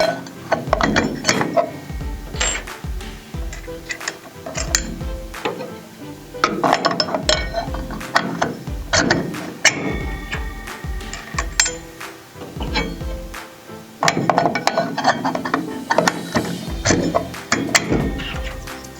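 Metal saw blades and 3.1mm spacers are slid onto a saw arbor one after another, giving repeated close clinks, ratchety scrapes and knocks in irregular bursts with short pauses between.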